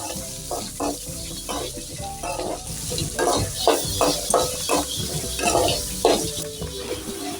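Sliced onions and dried red chilies sizzle and fry in a pan while a utensil stirs them in repeated scraping strokes, a steady crackle underneath.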